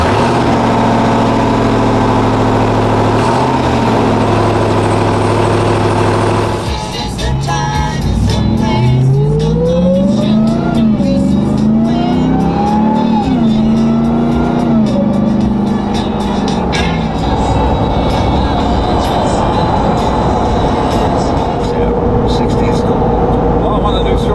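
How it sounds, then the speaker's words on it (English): A Ram TRX pickup truck with stock exhaust cold starts, revving with a rising and falling roar before settling into a loud, rumbling idle close by. "And now for the last cold start of the stock exhaust."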